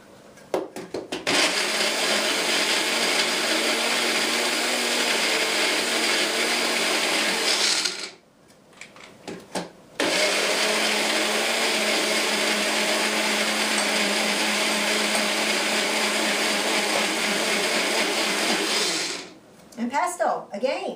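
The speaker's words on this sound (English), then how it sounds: "the blender doesn't like working without the little bit of water" A blender whirs loudly and steadily, stops for a couple of seconds, then runs again for a long stretch before cutting off near the end.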